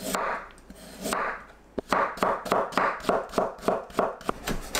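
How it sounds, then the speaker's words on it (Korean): A knife julienning carrot on a cutting board, steady close chopping taps speeding into a quick regular rhythm after a few slower scraping strokes. "당근도 채 썰어서 준비합니다."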